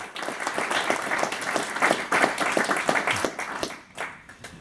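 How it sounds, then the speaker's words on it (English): A conference audience applauds the keynote speaker at a Spider-Man in Pop Culture conference at BGSU, sustained many-handed clapping that gradually thins toward the end. "Give him a round of applause"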